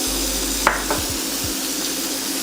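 Butter melting in a pot on medium-low heat for a velouté sauce, a faint steady sizzle with a couple of brief utensil clicks and taps against the pot near the start.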